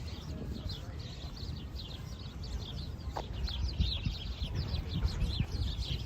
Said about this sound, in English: Listen to the birds. The birds are all like, chirp, chirp.